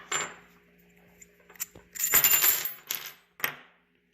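Small metal tools from an SKS rifle cleaning kit, a brush, patch puller, scraper and punch, clink and rattle as they are handled, with a busier burst of metallic jangling midway and a few sharp taps near the end.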